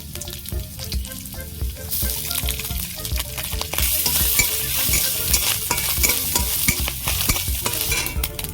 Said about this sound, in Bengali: ঘি দেবো বাদাম আর নারকেল আমি ভেজে নেব